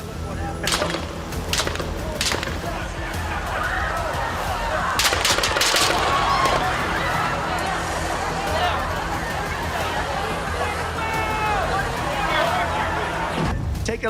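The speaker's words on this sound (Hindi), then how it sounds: "लेकिन कुछ ही सेकंड बाद गोलियां चलने की आवाज आई" Three sharp gunshots crack out over a noisy outdoor crowd at a Trump rally, with shouting and babble continuing throughout.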